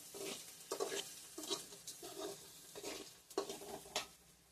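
Onions sautéing in a pan for a South Indian beetroot stir fry (poriyal), with repeated scraping stirs over a soft, steady sizzle, close and moderately loud, with no talking.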